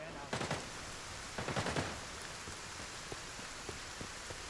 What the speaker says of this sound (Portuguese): muito bonito o efeito da chuva aqui